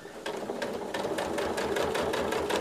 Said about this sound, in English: sewing along the straight lines and along the inside curves with a straight stitch on our sewing machine